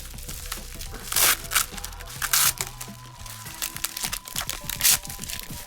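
Heavy sports card mail packaging being torn open and unwrapped close up, with repeated crinkling, crunching and tearing bursts of plastic and paper at an uneven pace.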